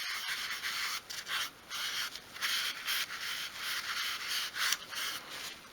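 A cloth rubs finish into soft craft wood for dolls' house furniture in small circular motions. The soft, close rubbing swishes in a steady repeating rhythm with no speech.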